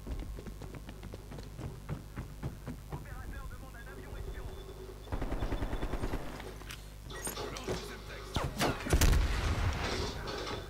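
Gunfire in Call of Duty Cold War multiplayer, with bursts of shots and rapid clattering fire at a moderate distance, growing louder toward the end over a low game rumble.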